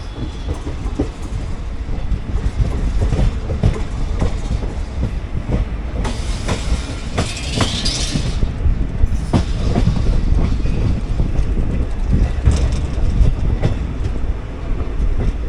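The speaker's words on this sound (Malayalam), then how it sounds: "അപ്പോൾ നമ്മൾ ജസ്റ്റ് ലൂപ്പിൽ നിന്ന് മെയിൻ ലൈനിലോട്ട് കയറുന്നു" A 20-car Vande Bharat Express trainset, 20633, crosses from a loop line onto the main line, a steady loud rumble with rhythmic wheel clatter and rail clicks throughout.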